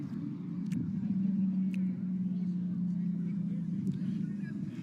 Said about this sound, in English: that car is making far more noise than any of the actual protesters here have been making